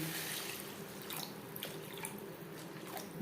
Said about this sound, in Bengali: গ্যাসের ফ্লেমটাকে হাইতে করে দেবো আর দিয়ে দেব জল